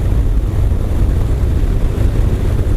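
2022 Harley-Davidson Low Rider S cruising at about 80 mph and 3,000 RPM, a loud steady low engine rumble mixed with heavy wind rush, constant throughout with no speech.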